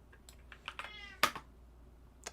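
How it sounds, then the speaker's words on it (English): A single house cat gives one short meow indoors, with faint clicks of a computer keyboard being typed on before and after it, in an otherwise quiet room. "And that is my cat that's meowing."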